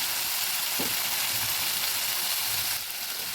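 Spices frying in a pan for a country-chicken curry with potatoes, a loud, close, continuous hissing sizzle with a brief stir-like knock early on, easing slightly near the end.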